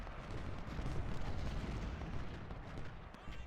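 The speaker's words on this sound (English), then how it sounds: "Stanley's getting hit hard by canister fire" Canister artillery fire rolls across the Battle of Chancellorsville in Ultimate General: Civil War as a dense, continuous rumble of distant cannon and musketry, steady and heavy, without a single distinct blast standing out.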